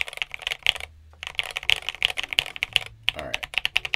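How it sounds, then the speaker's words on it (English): Typing on an Ajazz AK873 TKL mechanical keyboard produces a rapid run of close, crisp clacks in uneven bursts, with brief pauses between strings of keystrokes. "it sounds like a different keyboard altogether"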